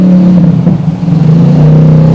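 Loud motorcycle with a modified exhaust revving in a village, a steady droning engine note that surges and holds throughout, close and dominant with no talk.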